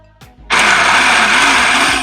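A food processor bursts into a loud, steady whirring roar after a brief click and short mechanical rattle, running continuously up close with no speech.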